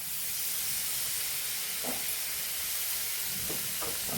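Bombay duck (bombil) sautéing in oil with masala, a soft continuous hiss of frying with a few faint stirring knocks, fairly quiet and even throughout.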